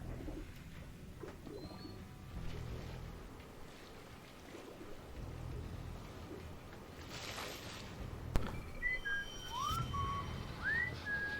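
Several short rising whistles sound late in a quiet, dim ambience while sneaking past guards in Splinter Cell: Double Agent, Sea of Okhotsk mission, with soft background noise and a faint thud midway.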